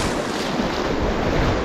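The Kali Gandaki river rushes through a deep gorge, a loud continuous roar of churning water mixed with wind buffeting the microphone.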